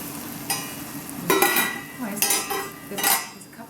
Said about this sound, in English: Just stir around. Just to cook off the wine